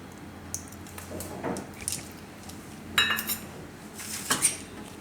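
Bottle gourd uttapam batter with turmeric, red chili, coriander-cumin powder and curd being mixed in a bowl, with soft wet squishing and scattered clinks of a spoon against the dish, louder bursts near the end, no talking.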